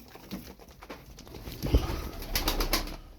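Fancy game pigeons, including mirror-tailed birds, coo softly at close range in a bird loft, with low burbling calls and scattered rustling.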